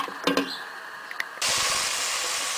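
Chicken and masala sizzling in a pot while being fried for yakhni pulao, a steady loud hiss of frying that starts abruptly partway through after a few faint clinks, continuing evenly to the end.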